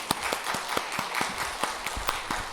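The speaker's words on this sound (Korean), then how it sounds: "박수로 크게 격려해 주십시오" A church congregation claps together in a rapid, fairly even rhythm of distinct hand claps, moderately loud and close, with no talking over it.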